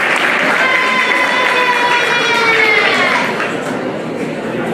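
A live quiz-show audience in Paris applauding a correct answer, loud, thick clapping and crowd noise that stays strong, then eases slightly near the end.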